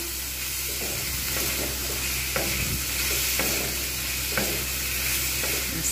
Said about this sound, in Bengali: এবার এটা কিন্তু আমি ভালো করে শুকনো শুকনো করে ভেজে নেব